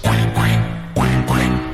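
Ducks quack loudly and close, four strong nasal quacks in a quick, uneven rhythm with nothing else audible.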